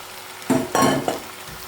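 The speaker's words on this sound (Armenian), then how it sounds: "Կխառնենք, այնուհետև կթողնենք մի 2-3 րոպե կարտոֆիլի հետ կտապակվի" Potatoes fry in a pot for an Armenian bughlama stew while a spoon stirs them, making a few short scraping and sizzling bursts over quiet background, with no talking.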